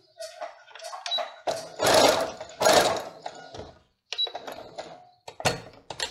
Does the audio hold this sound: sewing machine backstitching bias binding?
yes